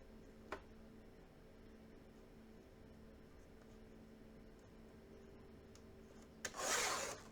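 A short, crisp cut through pattern paper for a paper-craft album comes near the end, a single brief rasping swish after a long, very quiet stretch with a faint tap early on.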